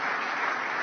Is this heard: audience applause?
yes